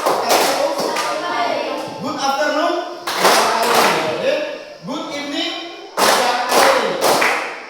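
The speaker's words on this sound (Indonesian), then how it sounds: "kalau saya bilang good morning, tepuk tangannya satu kali" Students in a classroom clap their hands once on cue, producing sharp single claps spaced a few seconds apart between a teacher's spoken greetings.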